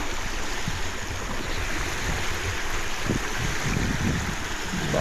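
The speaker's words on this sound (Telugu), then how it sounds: "అలలు కూడా బాగానే వస్తున్నాయి" Waves wash steadily against the shore at a camping spot in Germany, a constant loud rush of water with wind and no voices.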